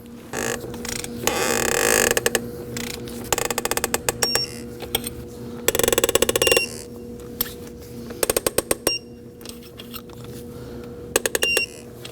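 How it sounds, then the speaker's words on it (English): Close metallic ratcheting from a torque wrench tightening four bolts on a 2011-2016 Kia Optima engine during a knock sensor replacement, in several quick clicking bursts separated by short pauses. "Now we're gonna go ahead and torque those 4 bolts to 9 foot-pounds."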